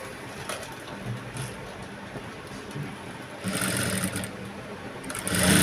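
Sewing machine stitching piping onto the lining cloth of a blouse with potli buttons, a steady mid-level whir that grows louder and busier toward the end.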